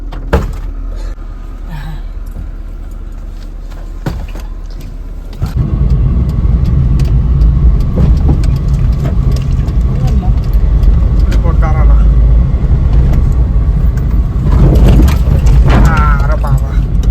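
A car door thunks shut, then an engine starts and idles steadily nearby, a low rumble running under people talking.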